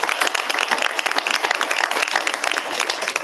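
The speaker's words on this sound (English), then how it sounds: "let's give all of our speakers a round of applause" Audience applause fills a conference session hall as attendees clap for a panel of speakers at a 2023 sustainable workforce event: dense, steady, fairly loud clapping from many hands throughout, with no talk over it.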